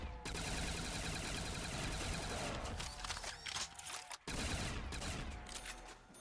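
A PPSh submachine gun in a video game fires in long, rapid automatic bursts that break off into scattered shots and short gaps. The game audio is dense and loud, with no speech.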